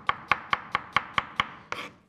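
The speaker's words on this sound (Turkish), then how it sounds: "şöyle bir doğrayalım" A knife chops radish on a cutting board in seven quick, evenly spaced crisp taps, followed by a softer scraping stroke, close and clear with no voices.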